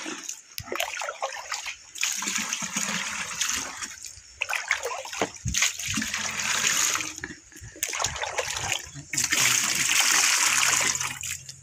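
Water runs and splashes steadily while plants such as alugbati are watered in a garden, a loud continuous wash that dips briefly in a few places.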